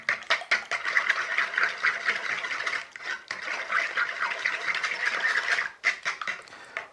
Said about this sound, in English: this one though does want whisking in, otherwise it gathers on the top.